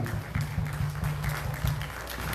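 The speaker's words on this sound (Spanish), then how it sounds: "Fuerte las palmas para ella" Audience applause for a young girl singer at a school song contest in Peru, steady clapping over a low musical hum with faint voices in the mix.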